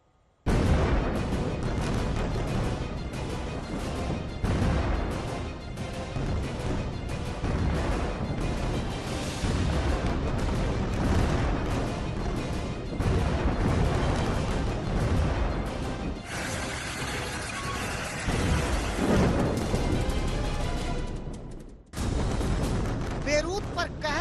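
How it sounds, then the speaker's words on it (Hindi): Israeli air strikes hit Beirut at midnight, a dense, continuous barrage of loud booms and rumbling blasts with voices mixed in, ending in a brief drop before the roar resumes. "आधी रात को धमाकों से दहल उठा बेरूत"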